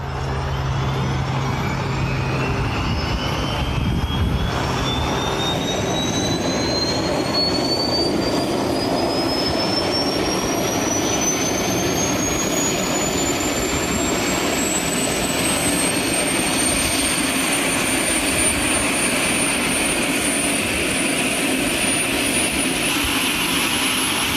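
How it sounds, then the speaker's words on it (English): A Eurocopter EC120B helicopter starts up at a heliport, its turbine whine climbing steadily in pitch over a loud, continuous rotor roar that builds throughout, close and dominant. "One aboard at the heliport, engine and rotor start."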